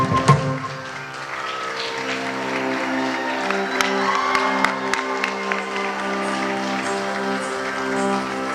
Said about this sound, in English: That thunderous applause, I guess, explained how well she performed the Lana.